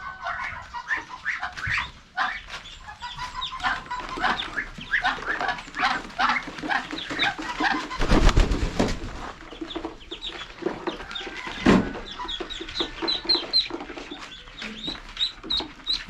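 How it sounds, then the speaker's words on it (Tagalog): A large flock of more than a hundred ducks on a farm keeps up a busy chorus of overlapping quacks and calls, close and fairly loud, with a dog barking and brief bursts of handling noise. "papakita ko din yung mga bibi natin doon na napakarami din at nasurok na 100 na ata yun"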